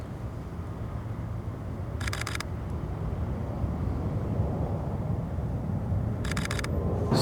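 A DSLR-style camera shutter fires bracketed exposures during an outdoor landscape shoot, heard as brief crisp bursts a few seconds apart over a steady rumble of wind and ambient noise.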